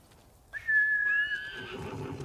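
A single horse whinny in the video game Ghost of Tsushima rings out clearly, rising then trailing off over about a second, over a low steady background rumble.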